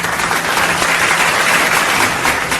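Loud, dense audience applause at a live poetry and storytelling show in Bhilai, a continuous wash of many hands clapping without break.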